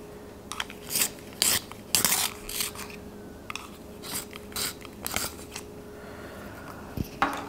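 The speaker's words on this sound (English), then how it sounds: "Better sharpen it." Quiet, close scraping and rasping of a colored pencil being sharpened, coming in short irregular strokes with small pauses between them.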